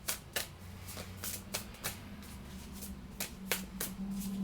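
Tarot cards are shuffled by hand, a run of quick crisp riffling snaps in an irregular rhythm, close and fairly quiet, with a low hum beneath and no talking.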